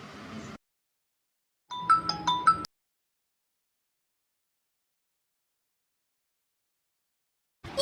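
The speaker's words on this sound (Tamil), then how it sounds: "என்னங்க ஃபோன் அடிக்குது யாருன்னு பாருங்க" A short electronic phone ringtone melody plays once between silences, with a brief voice before it and another sound cutting in at the end.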